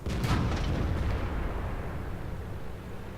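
A World of Tanks tank cannon, a T-34, fires a shell at an AT-15: one loud booming blast at the start that rolls into a long, low rumbling tail, with no talking over it.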